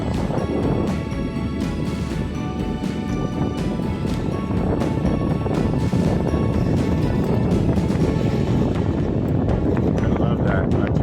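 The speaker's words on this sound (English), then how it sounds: "Just the wind blowing." Steady wind rushes around a Hughes Columbia 8.7 sailboat out on Georgian Bay, a continuous broadband roar that holds loud and unbroken the whole time, with no voices over it.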